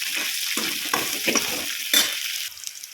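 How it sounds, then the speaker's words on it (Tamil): Bitter gourd frying in oil with rock salt: a steady bright sizzle under several scraping stirs and soft utensil knocks at irregular intervals, thinning out near the end of the three seconds. "இந்த பாவக்காயை எண்ணெயில் வதக்கிக்கணுங்க"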